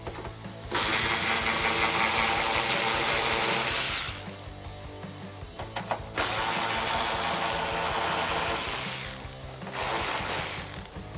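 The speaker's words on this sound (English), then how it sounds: "I'm going to just take my 10mm socket on my ratchet, and I'm going to remove the one on this side and the other side as well." A ratchet with a 10mm socket removing factory spoiler nuts under the trunk lid of a Dodge Challenger, giving long runs of rapid, close clicking broken by short pauses.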